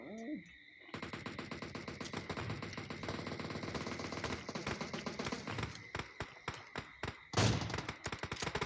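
Automatic gunfire fills an online shooter match, a dense rapid rattle of shots that runs almost without a break before ending in scattered bursts and one louder blast, with faint game sounds at the start.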